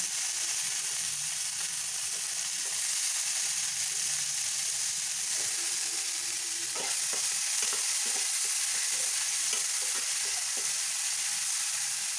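Tomato and coriander leaves fry in a pan for a watermelon-rind dish, giving a continuous close hiss of sizzling with clicking, scraping stirring strokes partway through.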